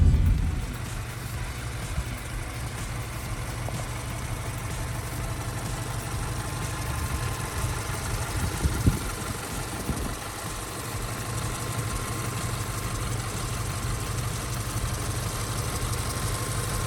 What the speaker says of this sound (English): Under the bonnet here, I'm sure you're aware, 2 litre boxer engine, petrol.